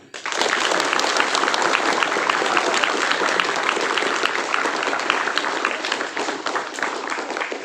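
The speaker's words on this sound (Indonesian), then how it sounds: "coba tepuk tangan dulu" An assembled crowd at a school ceremony in Indonesia breaks into sustained applause, a loud, dense patter of many hands clapping that swells quickly and tapers slightly toward the end.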